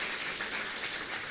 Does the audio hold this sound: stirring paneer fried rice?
no